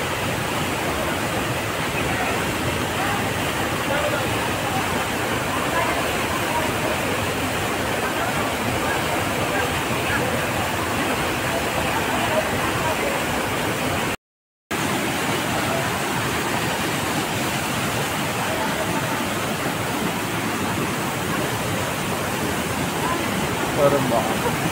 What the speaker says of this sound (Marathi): हा दुसरा वरती धबधबा आहे.